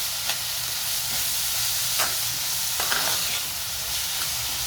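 Finely chopped onion with a pinch of salt fries toward brown in a pan for Maharashtrian-style whole masoor, giving an even, continuous sizzle with a few soft stirring clicks and no talking.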